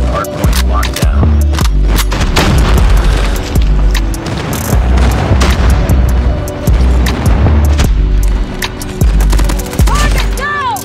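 Loud, dense gunfire from Call of Duty Mobile: rapid machine-gun bursts and scattered shots mixed with heavy airstrike explosions and booms. The sound is continuous and chaotic, with game announcer voice lines heard briefly.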